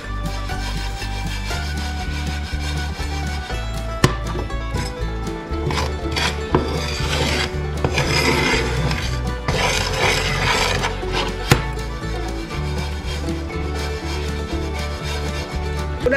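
Anise and seeds are stirred as they toast in a pan over medium heat, giving a steady dry rubbing and rasping scrape that runs under prominent rhythmic background music.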